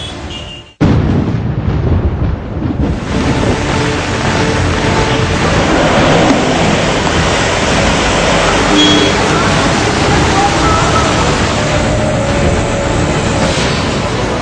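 Rainwater floods the streets of Bhiwandi near Mumbai in a loud, steady roar of rushing water. The wash is broad and continuous, stays close, and holds at full strength from start to end.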